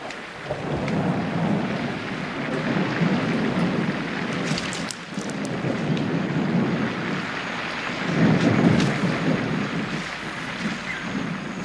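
Steady rain falls throughout at Gombe in Tanzania, with low rolling rumbles of thunder building and fading in the background.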